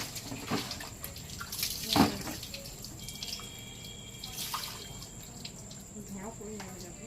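Tap water runs steadily while hair is washed with shampoo, a continuous hiss broken by a few louder splashes, with no talk over it.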